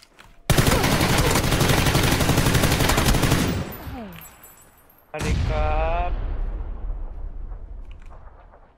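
Rapid automatic gunfire in a shooting video game, a loud continuous burst of about three seconds, then a pause and a second long burst, with players' voices talking over it.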